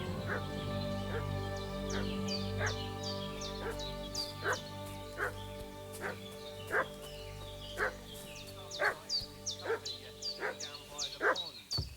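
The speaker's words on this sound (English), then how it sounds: "What's that dog making such a fuss about?" A dog in the video game Kingdom Come: Deliverance II barks repeatedly in a steady rhythm at middle distance, the sharp yaps ringing over a low droning background.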